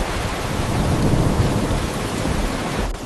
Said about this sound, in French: Regardez la pluie, Aïcha.